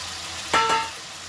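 Pieces of pre-fried taro and eggplant drop into hot oil in a pan for a vegetarian vegetable dish, bringing a short burst of sizzling over a steady, quiet hiss that eases back to a low simmer.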